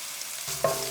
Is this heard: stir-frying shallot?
yes